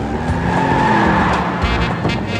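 Cars race in a Hindi action film chase, with a loud, close engine roar and tires skidding and squealing throughout the brief burst.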